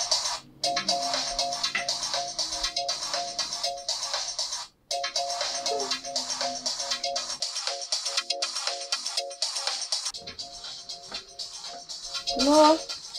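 A mobile phone ringtone plays loud and close as a repeating, pulsing electronic melody that runs almost continuously, briefly breaking once, with a louder swell near the end.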